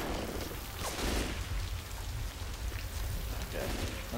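Rain in the game Left 4 Dead 2 falls as a steady, broadband hiss with scattered drops pattering across surfaces, fairly quiet and continuous throughout.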